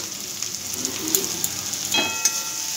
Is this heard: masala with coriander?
yes